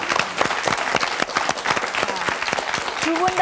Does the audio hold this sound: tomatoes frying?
no